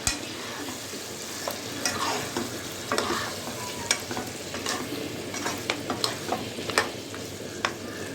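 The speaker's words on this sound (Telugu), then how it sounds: "ఒకసారి కలుపుకుందామండి." A spoon scrapes and stirs through a thick simmering Andhra chicken curry in a pot, with soft sizzling underneath and irregular scraping strokes.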